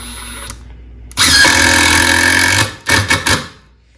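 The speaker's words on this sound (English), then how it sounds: "So of course all these impact drivers are going to do a really good job with these screws." Metabo HPT impact driver driving screws: a loud, steady whirring buzz runs for more than a second, followed by a pause and then several short bursts as the screw seats, heard close up with no talking.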